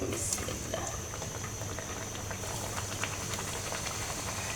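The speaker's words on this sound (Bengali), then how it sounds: "বন্ধুরা কড়াইতে তেল দিয়েছি, আমি এখন ভেজে নেব লুচিগুলো" Whole-wheat atta luchi, rolled somewhat thick, fry in hot oil in a kadai. The result is a continuous soft sizzle and bubbling hiss that stays even and fairly quiet throughout, with no talk over it.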